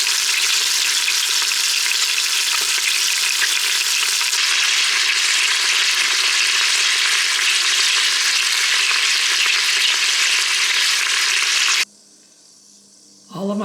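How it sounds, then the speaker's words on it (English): Pork belly pieces browning meat-side down in oil inside a pressure cooker, a loud, dense, unbroken sizzle that continues for about twelve seconds and then cuts off abruptly. "Now put it on the meat side, and we'll let that get brown."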